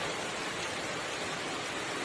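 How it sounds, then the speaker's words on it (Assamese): Steady rain falls outdoors after a gusty spell, a continuous even hiss with no voices. "মানে অলপ আগত পূৰা বতাহ দিলে আৰু এতিয়া বৰষুণ।"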